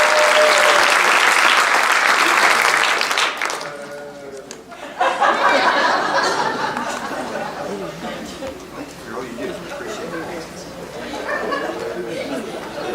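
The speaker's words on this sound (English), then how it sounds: "we'll clap in between these" Audience applause at a school district's end-of-year faculty awards ceremony, a loud burst of clapping that fades after a few seconds, then crowd chatter and scattered clapping with talk, rising again toward the end.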